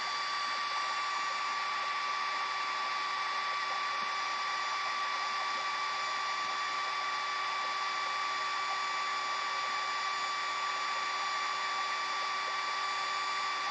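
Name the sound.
electric drill twisting nichrome and stainless steel wire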